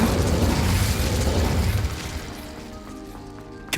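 Fire spell Incendio cast in the video game Hogwarts Legacy, a loud roaring, crackling burst of flame that fills the first two seconds and then dies away into a quieter tail, ending with a short sharp hit.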